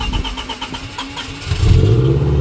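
A car with a Haltech-managed engine that had been suffering lean fuel problems cranks with rapid starter chatter, then catches and fires into a loud, rough running rumble, close by.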